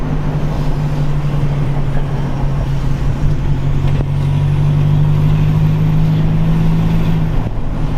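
A Toyota Vigo pickup, its failed stock turbo swapped for a 3000 turbo with an ECU tune, holds a loud, steady engine drone up close, its pitch rising gently mid-way before easing back, with no talk.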